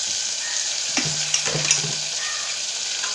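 Tomato and ginger-garlic paste sauté in a pan for vegetable biryani. A steady, close sizzle runs throughout, with a few soft scrapes and clicks from stirring and no talking.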